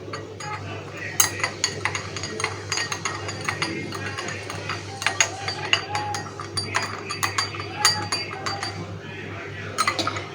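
Tea is poured into cups amid repeated bright clinks of dishes, cups and spoons, close by over a low steady hum.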